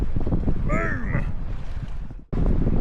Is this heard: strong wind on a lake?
yes